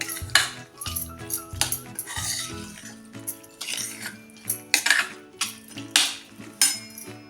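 Spoon scraping and clinking against a bowl while instant garlic pickle is stirred together with sugar, a series of close, rhythmic metallic taps and scrapes.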